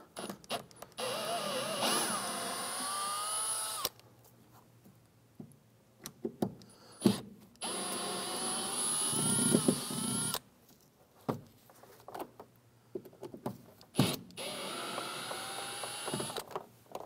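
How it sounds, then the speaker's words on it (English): A power driver backs out the screws of a door sill plate on a 1993-1997 Ford Ranger in short whirring bursts, each run lasting a few seconds and separated by quiet pauses, with clicks and handling noises between them. "Speed things up by going to our power tools."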